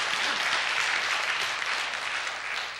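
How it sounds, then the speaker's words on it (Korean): A church congregation at a Friday prayer meeting claps together in sustained, dense applause that holds steady throughout and tapers slightly at the end, with no talking over it. "박용성 장로님, 사랑하는 마음으로 박수를 한번 쳐드리자고."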